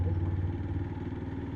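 A motorcycle engine running on an Independence Day ride toward Kolaghat, a low, steady throbbing drone with a fast regular pulse, near and continuous.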